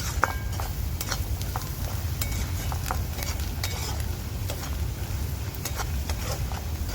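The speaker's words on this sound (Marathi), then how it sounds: "तर आता मिक्स करून घेतलाय मी मसाला" Wild alamb mushrooms mixed with red masala, turmeric, garam masala and salt in a pan, scraped and stirred with a spoon in irregular clicks and scrapes over a steady low kitchen hum, with no voices.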